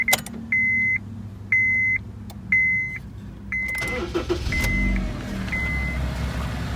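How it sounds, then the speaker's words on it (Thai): A 2010 Honda Civic 1.8 S with 90,000 km: several chimes beep rhythmically before the starter cranks and the engine catches, settling into a steady, quiet idle, heard close and without voices. "เดี๋ยวสตาร์ทให้ฟังเสียงกัน"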